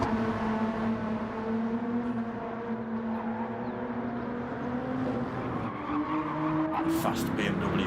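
GT3 race cars, a BMW and a Nissan, in a racing video game at Spa, droning with steady, rising engine notes as they pass and gear changes shift the pitch, with a commentator talking over the engines throughout.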